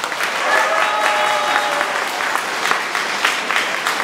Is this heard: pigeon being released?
no